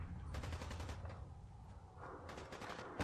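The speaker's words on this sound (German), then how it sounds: "Ich höre Schüsse." Rapid bursts of automatic gunfire crackle almost continuously, with brief lulls between volleys, in the video game Fallout 4.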